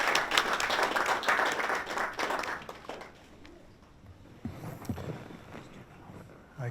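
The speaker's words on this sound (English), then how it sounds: "let's give him a round of applause" Audience applause at a lecture on healthcare ethics, a dense burst of clapping for about two and a half seconds that thins into scattered claps and room noise.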